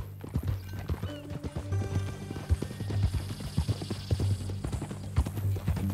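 Steady clip-clop of horse hooves trotting at an even rhythm in Red Dead Redemption 2, close and clear, over a low ambient hum with a faint whinny in the mix.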